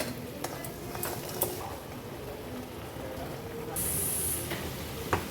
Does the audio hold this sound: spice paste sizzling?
yes